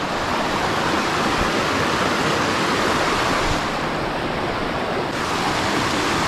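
Brook water flows steadily where a Vermont stream splits in two, a loud, constant broadband rush and gurgle heard up close with no voices.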